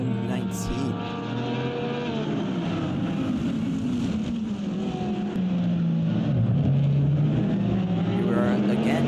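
Racing Lamborghinis run side by side at the Magny-Cours Grand Prix circuit in an IGTCS race, their engines howling and shifting pitch as they pass. A commentator talks over the cars as they go by.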